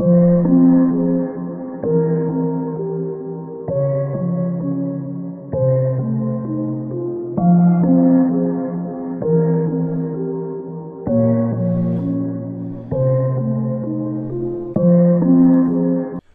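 An original music loop playing alone, a steady harmonic sample with chord changes roughly every two seconds, loud and even throughout with no talking over it.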